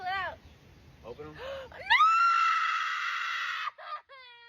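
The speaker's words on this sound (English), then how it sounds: "Those are screams of joy," Excited screaming of joy at a baby gender reveal, a long loud sustained shriek after brief build-up cries, ending with a few quieter vocal bursts.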